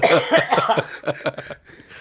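Several coughs and throat-clearing bursts in quick succession, close and fairly loud, fading out toward the end.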